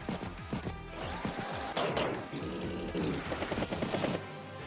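Artillery shelling infantry units in Advance Wars, a short run of game combat effects with crackling, gunfire-like bursts and impact noise, fairly loud and continuous over a few seconds with no talking.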